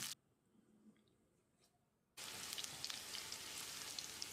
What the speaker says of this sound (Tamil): ஒரு 10-20 செகண்ட் இதை ஃப்ரை பண்ணணும்.